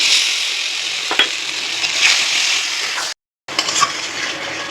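Poppy seed paste with salt and other ingredients frying in a pan, a loud steady sizzle with a few stirring knocks, cut by a brief silent gap before the sizzle resumes.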